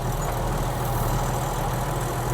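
A tractor engine runs at a steady low throb, a continuous rumbling drone with no variation, close and fairly loud.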